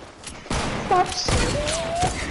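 Gunfire in a video game shooter, a few sharp shots cracking over game sounds and brief tonal effects within a couple of seconds, no one talking.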